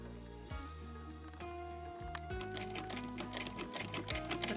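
A sewing machine stitching fabric at a Kazakh folk-craft workshop in the Ereymentau historical museum, running in bursts of rapid mechanical clatter with short pauses, close and moderately loud.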